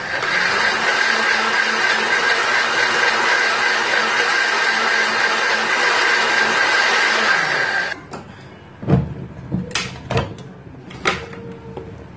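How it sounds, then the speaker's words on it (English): An electric blender whirs steadily and loudly as it purees garlic, ginger, seasoning and white pepper, then cuts off abruptly, followed by a few sharp knocks and clatters. "I'm going to add in white pepper into it, and I'm just going to blend that"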